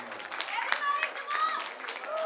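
Guests at a Mehndi and Sangeet wedding celebration clap for the newlyweds, a scattered crowd of hands beating under voices chattering and calling out nearby.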